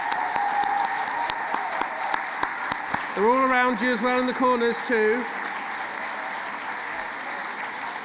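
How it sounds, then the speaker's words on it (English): Large crowd at a graduation ceremony held at Wembley claps in a sustained round of applause throughout, and a voice speaks over the clapping partway through. "can everyone have a moment to show appreciation with a round of applause"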